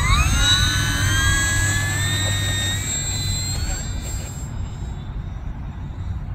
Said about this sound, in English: The 11 Hobbies 1100 millimeter Bearcat up to four cell.